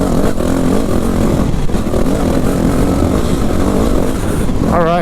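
A Yamaha WR250R dirt bike runs on trails at Carnegie SVRA, its engine a loud, close, continuous drone with a rising rev at the end, overlaid by wind rush.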